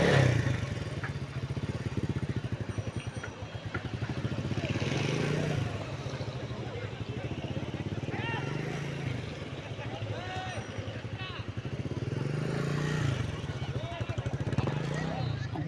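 A motorcycle moves slowly in low gear with a rumbling, uneven engine note as a small boy rides it, close by, with rattling clatter and people talking over it throughout.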